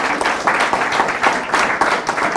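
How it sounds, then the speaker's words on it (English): An audience applauds after sixth-grade Memorial Day essay contest winners are honored at a county event, a loud, steady round of clapping from a crowd that carries on without a break. "So let's give them another round of applause."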